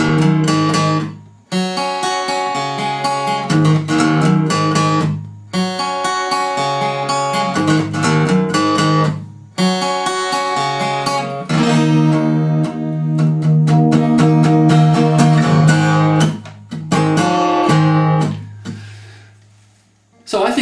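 The optional bridge of a song played on acoustic guitar, bright strummed chords in bursts with short pauses between phrases, close and loud, fading out at the end with no talking.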